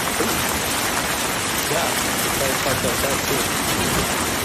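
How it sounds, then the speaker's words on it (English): Hail falling during a severe spring storm in La Vista, eastern Nebraska, a dense, steady broadband clatter like heavy rain pelting surfaces, continuous throughout with voices talking over it. "So this is hail in Papillion?"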